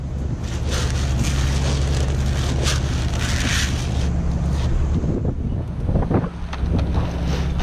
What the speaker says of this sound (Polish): Wiatrzysko dzisiaj przeszkadza nam w nagrywaniu jak zwykle.